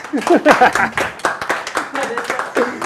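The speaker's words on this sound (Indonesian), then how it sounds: "Tepuk tangan dong guys." Several people clap their hands in uneven bursts at a table where a giant 50 kg lava meatball filled with chilies has just been cut open, with lively voices talking over and between the claps.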